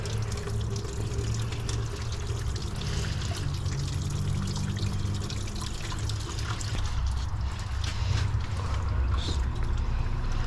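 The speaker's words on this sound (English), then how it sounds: "let's pull this out real quick. Let all the coolant fall out." Coolant drains from a BMW B46/B48 engine during a water pump replacement on a 2017-2018 330i/430i/530i, a steady close trickle and splash of liquid running continuously with faint mechanical noise.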